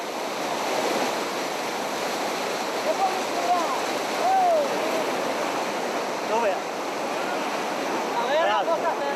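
A river in Pakistan roars continuously and fairly loud, a broad steady wash of rushing water with no pauses.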